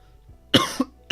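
Two harsh coughs close to the microphone, the first longer with a short follow-up burst, then a third brief cough after a pause.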